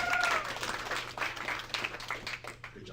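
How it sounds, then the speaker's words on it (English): An audience applauds and cheers at a memorial celebration of life, a short burst of scattered clapping with a whoop at the start, thinning and uneven as it fades. "Hold for deserving applause."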